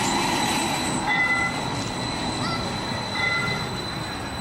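A train rumbles steadily nearby, with faint high wheel squeals and tones rising briefly over the continuous rolling noise.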